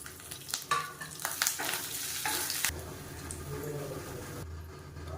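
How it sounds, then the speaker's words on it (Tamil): Curry leaves hitting hot oil with mustard seeds give a loud, crackling sizzle with sharp pops early on, settling into a steady frying hiss near the pan. "கருவேப்பிலையில் சேர்த்துக்கலாம்."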